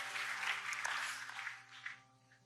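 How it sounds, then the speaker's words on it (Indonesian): A church congregation applauding during a service, a brief wash of clapping that fades out within a couple of seconds over a low sustained tone. "Kasih tepuk tangan yang paling meriah, tepuk tangan yang paling dahsyat."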